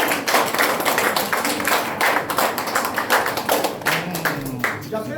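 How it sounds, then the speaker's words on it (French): Applause from an audience at a French-speaking ceremony, many hands clapping in a dense, continuous patter that stays loud throughout. "Je voudrais d'abord vous applaudir pour tous maintenant"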